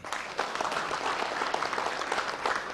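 A studio audience applauds for a singer on a televised talk show, dense steady clapping from many hands throughout, loud and close with no break.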